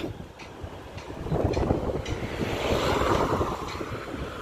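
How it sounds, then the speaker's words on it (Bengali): Strong, gusty wind roars steadily into the microphone, kicking up dust, while someone cycles through Patuli in Kolkata as rain begins, a dense rushing noise that swells after the first second and stays loud with no talking. "এতটাই জোরে হাওয়া হচ্ছে যে মানে সাইকেল চালাতে প্রবলেম হচ্ছে"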